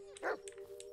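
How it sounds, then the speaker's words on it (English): A dog barks in the Blair Witch video game: one short, sharp bark with a few faint yips, heard fairly close over a steady low electronic hum. "Stop barking."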